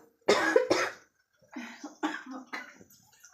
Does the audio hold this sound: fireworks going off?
no